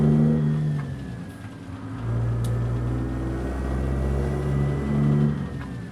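A small scooter engine in American Truck Simulator hums and revs steadily with a rising and falling whine, continuous and fairly loud, with no voices.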